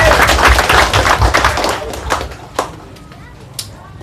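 Crowd applause for the secretary at a Pemuda Batak Bersatu branch ceremony in Medan: loud, dense clapping for about two seconds thins out into a few scattered claps, with talk underneath.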